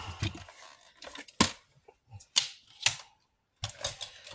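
Paper strip cut to length for scrapbooking with a trimmer or blade: a handful of short, crisp snapping and slicing clicks in quick bursts, close and fairly quiet, with brief pauses between and no talking.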